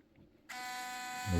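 Zoom motor of a compact digital camera with a swivel screen, a steady thin electric whir that starts abruptly after a brief quiet moment and runs continuously, close and fairly quiet.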